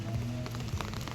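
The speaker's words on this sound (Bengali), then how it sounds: "বৃষ্টি পড়ছে" Rain falls in a soft, steady patter with scattered light drops striking a nearby surface, faint and unbroken, with no voices.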